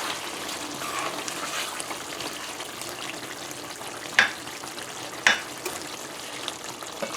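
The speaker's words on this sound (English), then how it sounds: "so let's give this another turn" A pot of papaya curry with shrimp and coconut milk bubbles softly while a spoon stirs it, two brief utensil knocks standing out against the low, steady simmer.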